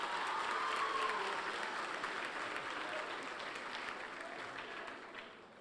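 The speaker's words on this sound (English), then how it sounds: "give them a round of applause too." Graduation audience at Boys and Girls High School applauding for the teachers, a dense sustained clapping that starts loud and slowly fades over several seconds.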